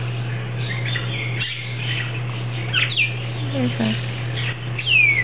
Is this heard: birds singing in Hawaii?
yes